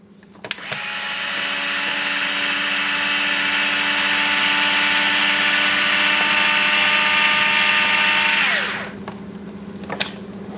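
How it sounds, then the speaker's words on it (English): A power tool, likely an electric driver, removes a button-head screw from the rear axle housing of an RC rock crawler: a click, then a steady whirring hum that holds for about eight seconds and winds down, followed by a couple of small clicks. "let's go ahead and remove the second bolt from the rear axle housing"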